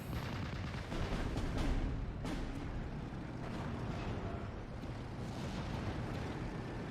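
Continuous heavy rumbling and booming from a bombing strike in Steel Division: Normandy 44, a WWII Normandy battle, with dense overlapping blasts and crackle running steadily and loud for several seconds, no voices.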